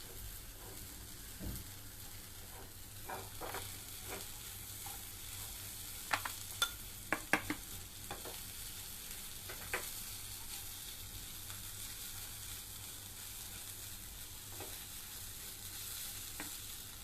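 Green peas roast in a pan with milk powder added, giving a quiet, continuous low sizzle with a low hum and a handful of sharp spoon taps and scrapes partway through.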